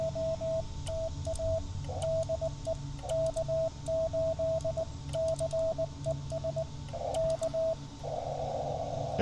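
Morse code tones from a Yaesu FT-817 portable radio fitted with a 300 Hz CW filter during outdoor operating at a state park, a clean single-pitch beeping of dots and dashes over steady band hiss with no talking.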